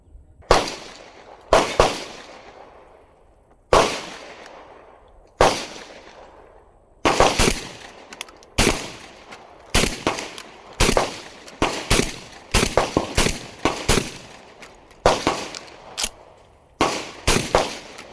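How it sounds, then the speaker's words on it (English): A Benelli M4 clone Mac 1014 semi-automatic shotgun fires a long series of sharp, loud, close blasts, spaced slowly at first and then quickening into fast strings of shots with short gaps. "the trigger on this is a typical shotgun trigger. Not bad. You can definitely shoot this pretty fast"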